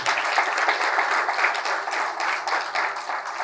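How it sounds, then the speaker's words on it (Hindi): A church congregation bursts into vigorous applause, a thick wash of many hands clapping at a steady loudness throughout, with no speech over it. "मूसा के लिए जोरदार तालियां बजाएं"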